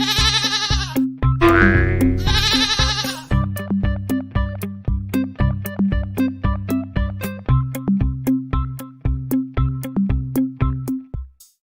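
A goat bleats several times in a loud, wavering burst, set within a steady, rhythmic musical pattern of repeating tonal notes that continues to the end.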